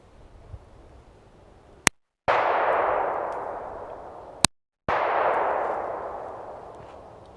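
A Jimenez Arms JA9 pistol fires two sharp shots at a steel target, each crack followed by a long ringing, fading wash, the pair spaced a few seconds apart with no talk.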